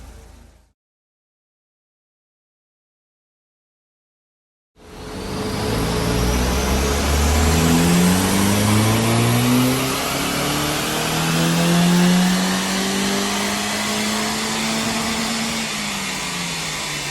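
A turbocharged Mitsubishi Colt Ralliart on a dyno during a stock power run starts after a brief silence, the engine climbing steadily and loudly through the revs in one long sustained pull with rising tone.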